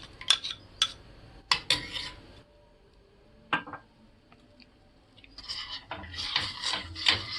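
A spoon stirs a skin-whitening mixture in a pot on the stove, with faint, intermittent clinks and scrapes of metal against the pot between quiet pauses.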